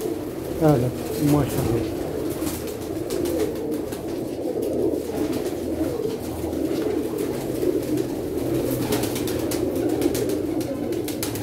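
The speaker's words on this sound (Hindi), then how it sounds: "कबूतर तो बड़ा शानदार देखो सामने कर" Pigeons coo close by in a loft, a few soft rolling calls near the start, then a steady background hum while someone talks over them.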